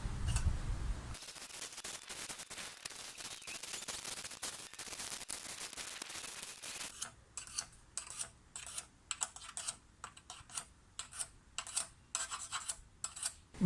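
A file rasps along the double-edge blade of a Stihl hedge trimmer, first in a steady dense scraping run, then in short repeated strokes with brief gaps, close and fairly quiet.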